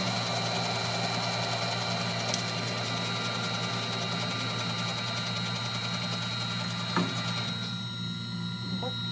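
A Myford lathe turns under power feed on a carriage lock lever job, giving a steady, even mechanical whir with faint ticking gear noise throughout, plus a brief knock near the end.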